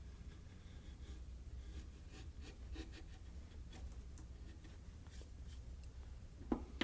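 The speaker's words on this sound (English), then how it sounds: "take your flat gouge again and go through and just bevel those guys down" A flat gouge bevels down cuts on a carved wooden American eagle, giving soft, repeated rubbing and scraping strokes at close range, faint and steady, with a sharper knock near the end.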